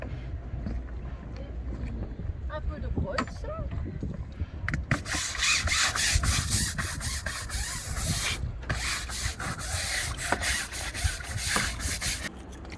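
A brush scrubs a dinghy hull with seawater, steady rasping strokes that grow louder and denser, close to the microphone with faint wind and water around.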